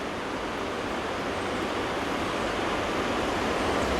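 Triple Falls, a waterfall in western North Carolina, gives a steady, dense roar of falling water that holds an even loudness throughout, with no voices over it.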